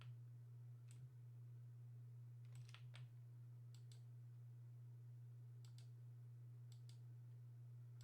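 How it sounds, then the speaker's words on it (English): Clicky computer keyboard typing during play of Project Zomboid: scattered short key clicks in small bursts, faint and fairly close, over a steady low electrical hum with no talking. "Please do excuse the clicky keyboard."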